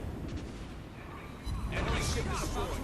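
Torpedoes strike an enemy ship in World of Warships Blitz, a loud burst of booming explosions rising suddenly midway and rolling on, layered over ongoing battle noise and a voice talking.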